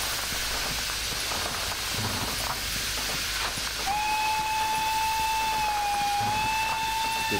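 A video-game steam locomotive whistle, a kkStB engine in a train simulator, blows a long, steady tone over a continuous hissing, rumbling train sound.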